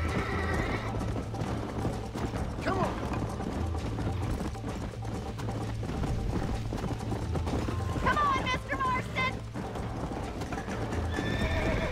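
Hooves pound in a fast, continuous gallop from a horse in the Red Dead Redemption video game, close and steady for the full stretch, with whinnies and voices breaking in here and there.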